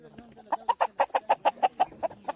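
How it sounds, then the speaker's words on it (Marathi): A chicken on a village farm in Maharashtra clucks in a quick, steady run of about a dozen close, distinct clucks, fairly loud with quiet outdoor background. "मित्रांनो कोंबडी पळाली"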